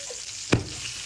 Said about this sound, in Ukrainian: печеночку відправляю смажитись, бо вона вже стріляє